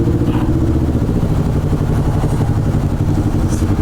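A motorcycle rides past in a city bus lane, its mid-pitched engine droning loudly and steadily with rattly clatter amid surrounding traffic noise.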